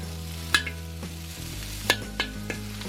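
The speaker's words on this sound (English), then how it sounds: "Panchetta in the wok. Nothing better than cooking bacon in a wok." Pancetta bacon sizzling in a wok, a quiet continuous crackle punctuated by a few sharp scraping and stirring clanks of a utensil against the metal, with a low hum underneath and no voices.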